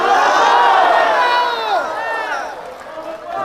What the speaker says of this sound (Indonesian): Jangan tepuk tangan dulu.